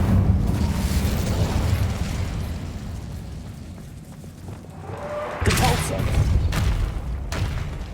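Incendio fire spell cast in Hogwarts Legacy, a booming fiery burst that erupts loudly partway through, with a character's voice talking before it over a steady rumbling background.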